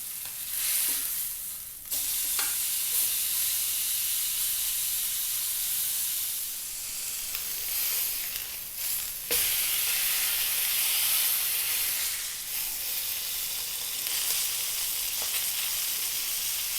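A fatty steak frying in a hot pan hisses and sizzles loudly and steadily at close range, with a few brief bumps and scrapes as it is turned.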